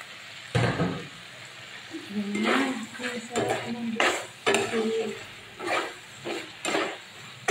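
Beef steak with fried onions in a pan, stirred and turned with scraping utensil strokes over a low sizzle, while someone talks throughout.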